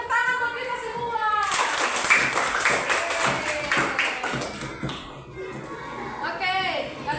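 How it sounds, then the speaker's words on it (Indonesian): Schoolchildren in an elementary classroom clap together in a burst of hand claps mixed with children's voices and shuffling, the clapping loudest in the middle and fading out as kids talk. "Oke, tepuk tangan buat kita semua."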